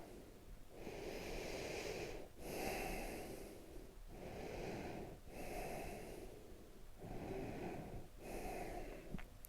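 Slow yoga breathing, with long audible inhalations and exhalations through the nose in a steady rhythm, close and breathy with short pauses between breaths.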